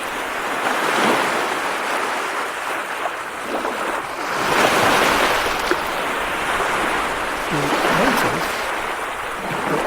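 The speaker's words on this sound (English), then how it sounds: "There's winds, there's waves, there's waves knocking on shore." Ambient ocean waves washing onto shore with wind, from the Plantie app, in a continuous surging roar that swells and recedes in slow cycles with gusty wind noise throughout.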